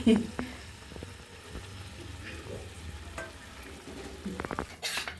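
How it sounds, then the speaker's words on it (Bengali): Vegetables sizzle and hiss in a hot pan, with occasional stirring scrapes and clinks, a steady low frying texture throughout. "এই সবজিগুলো একসাথে কষিয়ে নিই"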